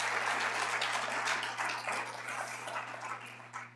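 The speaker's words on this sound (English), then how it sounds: "Let's clap for Per, even though he's not here." Steady applause from a crowd at an urban design awards ceremony, dense clapping at even loudness throughout, with a low hum underneath.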